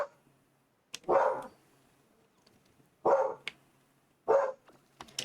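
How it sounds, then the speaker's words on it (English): Household dogs barking in separate sharp bursts, three main barks spaced a second or two apart with a few faint yips between, moderately close in an otherwise quiet room. "You may hear my dogs barking in the background."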